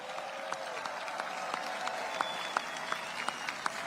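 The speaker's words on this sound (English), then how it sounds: "A round of applause for the King and Queen of Belgium." An audience at a celebration in Brussels applauds the King and Queen of Belgium with steady, moderately distant clapping that carries crisp individual claps throughout.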